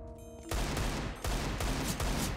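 Desert Eagle pistol shots in the video game CS:GO: three loud, heavy single shots spaced about a second apart, each with a sharp crack and booming low tail, after a brief quieter game sound.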